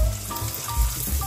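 Egg hitting hot vegetable oil in a pan, a close, loud, continuous sizzle with crackling spatter.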